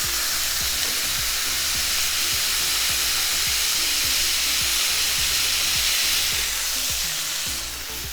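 Smashburger patties sizzle loudly on a flat-top griddle with a continuous close hiss, while a spatula presses and scrapes in a quick repeating rhythm underneath; no one talks.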